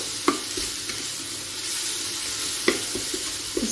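Onion frying and being stirred in a pan for a shrimp and vegetable soup: a steady loud sizzle throughout, with a few sharp utensil scrapes and taps against the pan, close by and alone.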